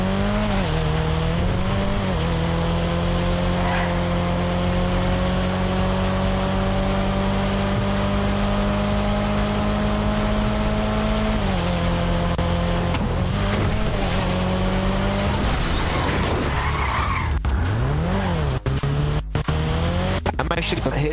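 A car drives in GTA V Online, its engine droning steadily with shifting pitch and tire squeals toward the end, loud and continuous throughout.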